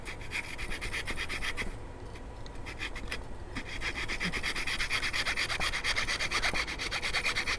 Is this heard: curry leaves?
no